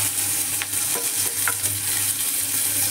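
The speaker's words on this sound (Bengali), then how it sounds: "এবার আমি কেটে রাখা পেঁয়াজগুলো দিয়ে দেব।" Sliced onions hit hot mustard oil with browned garlic and fry with a steady, loud sizzle, joined by a few brief stirring scrapes; no one speaks.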